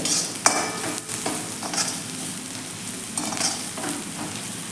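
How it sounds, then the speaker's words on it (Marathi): Potatoes frying in oil with turmeric and red chili powder being stirred through, a steady sizzle broken by a few sharp scraping and clinking strokes of the spoon against the pan, close and quiet. "हळद आणि लाल तिखट हे दोन्ही छान व्यवस्थित असे मिक्स करून घ्यायचे आहे"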